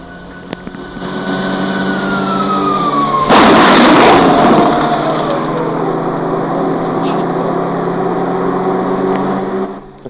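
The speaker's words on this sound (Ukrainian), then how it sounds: "НЛО, ну дай послухаємо звук." UFO in the mobile video game Indian Bikes Driving 3D: a loud continuous electronic whir with a slowly falling tone, a sudden harsh noisy burst partway through, then a steady hum that fades at the end.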